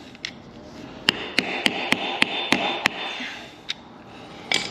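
Hammer blows on a KLR650 motorcycle part in a garage ring out as about eight sharp, evenly spaced metallic strikes, then one more after a pause and a final hit at the end, close and loud.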